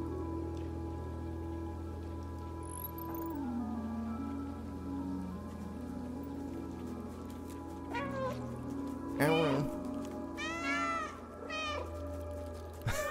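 A person imitates cat meows while playing the video game Stray, several drawn-out vocal meows arriving late over a steady soft rain-like game ambience, near and moderately loud.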